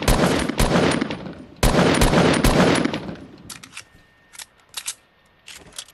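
Loud automatic gunfire from assault rifles and SMGs in a Wild West shooter game, two dense bursts of rapid shots followed by scattered sharper single cracks and short distant bursts.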